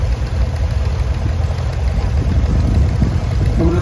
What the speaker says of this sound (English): And now we got Dan Free with a 1950 Model M Farmall.